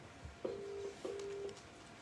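Two short telephone keypad dialing tones beep in succession, faint and clean against a quiet background.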